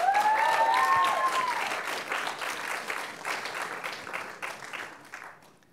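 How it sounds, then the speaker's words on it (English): An audience at a New York squash fundraiser gives a round of applause, the clapping loud and dense at first with a brief voice over it, then gradually fading to scattered claps. "So a round of applause for them."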